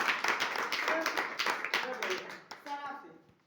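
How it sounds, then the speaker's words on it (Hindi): Audience clapping at a Safe Shop network-marketing meeting in India: a dense burst of many hands applauding together, loud at first and then thinning out and fading, with voices mixed in. "सर के लिए एक बार जोरदार ताली।"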